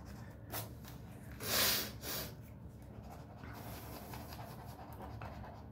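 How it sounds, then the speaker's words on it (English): A dog pants and snorts close by, a quiet, breathy rhythm with one louder huffing burst, heard alone without talk. "Don't mind, that's just my dog."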